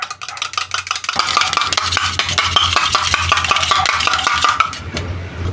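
Rapid, rhythmic clinking of a utensil whisking an egg and pepper omelet mixture in a bowl, a steady run of close, bright taps that starts after a quiet second and carries on alone, with no voices.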